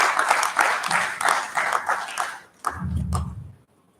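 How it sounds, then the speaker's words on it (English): Applause from the audience at a political summit opening session, in rhythmic bursts of clapping that fade, followed by a short rumble and a few last claps before silence. "Another round of applause for him."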